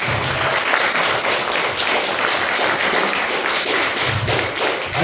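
An audience at a poetry book event in New York City claps in steady, dense applause that lasts the whole stretch, with no speech over it.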